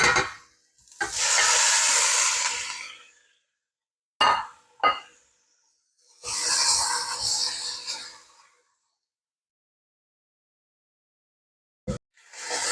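Pork hitting a hot pan of softened peppers and onions for green chili stew, loud hissing sizzle in several stirred bursts with clinks of a utensil, separated by silent gaps.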